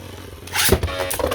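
A Beyblade Burst Xiphoid Xcalibur top is launched into a stadium with a sudden whoosh, then spins with scraping, rattling contact against the surface, loud and close.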